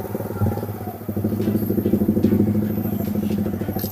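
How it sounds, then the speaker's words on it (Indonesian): A large motorcycle engine runs steadily nearby with a low, throbbing, slightly uneven rumble and a rhythmic pulsing beat, alone and without talk, out on a quiet road during a police traffic stop. "Motor gede."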